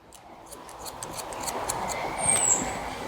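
Scissors snip hair for a longer men's hairstyle, the cuts soft and close amid a steady hiss of room noise, with no one speaking.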